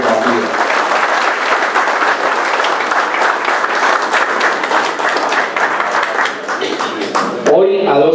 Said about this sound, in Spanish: solicito de los asistentes un aplauso por su brillante labor al frente del destino de nuestra organización social